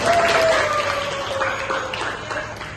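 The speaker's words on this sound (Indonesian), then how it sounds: "Beri tepuk tangan" A classroom of students applauds together, a dense burst of clapping that starts loud and gradually tapers over a few seconds, with a faint tonal hum running underneath.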